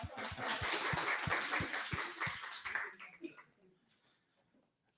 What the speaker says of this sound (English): We need an applause for Naomi.